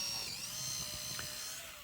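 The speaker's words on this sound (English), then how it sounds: "you start drilling some holes first." A power drill boring holes into wood ahead of routing, a steady high whine held throughout at a fairly low level, with no other sounds.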